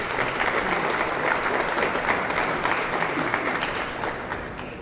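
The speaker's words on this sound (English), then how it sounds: "So a round of applause for all those folks" Steady, dense applause from a gathered crowd at the Philadelphia Marathon race weekend kickoff, many hands clapping close and loud before tapering slightly at the end.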